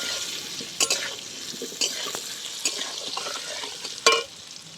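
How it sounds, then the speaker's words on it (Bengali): Potatoes frying in a pan with salt and turmeric, a steady close sizzle broken by several sharp stirring scrapes at irregular intervals. "আলুগুলো এবার খুব ভালো করে আমি লাল লাল করে ভেজে নেব।"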